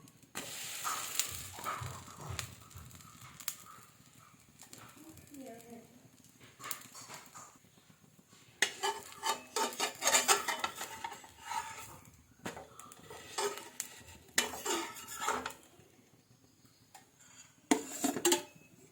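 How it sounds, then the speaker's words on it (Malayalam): Dosa cooking on a pan at home in the morning: a spatula or utensil clanks and scrapes against the pan in irregular bursts, with soft sizzling between, close by. "സ്കൂളിൽ പോകുന്നതിന് മുമ്പ് ഓരോ ദോശ കൂടി കൊടുത്തിടാൻ കരുതി ദോശ ഇടുകയാണ് കേട്ടോ"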